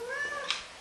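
A pet cat gives a single drawn-out meow indoors near a table, clear and fairly close, with a small click partway through and no speech.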